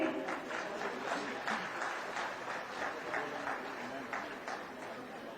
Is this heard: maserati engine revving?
no